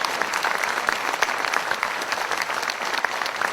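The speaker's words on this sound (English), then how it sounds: "Could you please give a round of applause to our defence force, and particularly all the veterans." Outdoor crowd at an Anzac Day ceremony in North Ipswich applauds the defence force and veterans, dense, steady clapping from many hands throughout.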